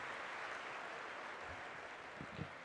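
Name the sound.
audience applause welcoming a speaker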